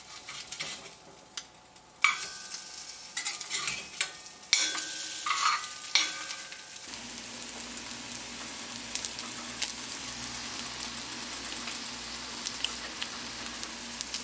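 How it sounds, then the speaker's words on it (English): Chung Jung One canned luncheon meat frying in a pan, opening with clatter and crackling as slices go in, then settling into a steady, even sizzle that runs on alone without talk. "Let's fry it up."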